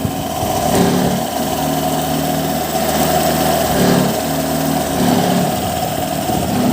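A Honda Click 125 V2 scooter engine with loose compression idling steadily up close, a constant buzzing drone with slight rhythmic wavering.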